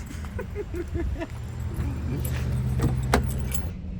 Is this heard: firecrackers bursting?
no